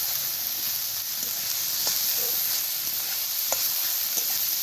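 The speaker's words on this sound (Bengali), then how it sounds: "পেঁয়াজগুলো ভাজা হয়ে গেছে, চিকেনগুলো দিয়ে দিলাম, এগুলো এর সাথে বেশ ভেজে নিলাম।" Chicken pieces fry with onions in a pan, producing a continuous close sizzle with occasional light stirring clicks. No voices are present.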